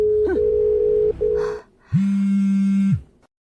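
Telephone tone after a call is hung up: a steady electronic tone runs for about a second, breaks briefly, then resumes; after a short gap a louder, lower steady tone sounds for about a second. No one speaks.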